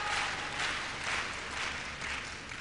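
Steady applause from a tennis crowd at a 1989 Basel semifinal, urging on Connors, an even wash of clapping from many hands with gentle swells, moderately distant and without talk over it.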